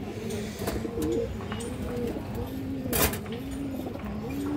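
Khora-gola pigeons, a male and a female, coo in low repeated phrases close by, with a brief sharp rustle or flutter partway through.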